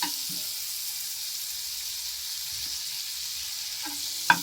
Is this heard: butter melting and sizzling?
yes